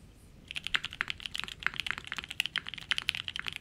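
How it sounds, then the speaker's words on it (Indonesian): Fast, continuous typing on an aluminium top-mount mechanical keyboard, crisp and close, with sharp clacky keystrokes following one after another. "suaranya mirip-mirip your typical aluminium top mount keyboard sih"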